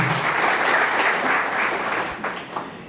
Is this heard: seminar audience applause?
yes